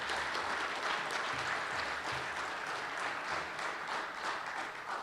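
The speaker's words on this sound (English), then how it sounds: "So let's give these guys a round of applause." Sustained audience applause at a poster awards ceremony closing an OTRD 2018 event, many hands clapping steadily at close range with no speech over it for about five seconds.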